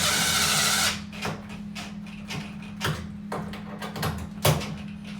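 A cordless drill on its lowest torque setting whirs in short bursts as it drives bolts on a Samsung dryer door, with brief pauses and clicks between runs, close by.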